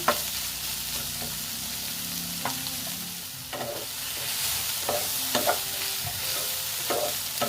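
Soybean chunks frying in a pan with a steady sizzle, broken by repeated scraping and knocking strokes of a spatula as they are stirred, close and clear with no talking.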